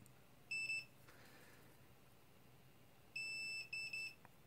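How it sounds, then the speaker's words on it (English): Two bursts of high electronic beeping from a continuity tester checking battery balance lead wires, a short double beep early and a longer broken series later, with quiet pauses in between. "I'm going to use my continuity tester"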